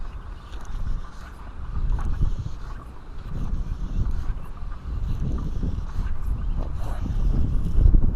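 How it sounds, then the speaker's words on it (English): Wind buffets a camera microphone outdoors during a fly fishing outing in Florida, a steady low rumbling roar that swells and gusts throughout, loud and close with no voices. "It is a little windy."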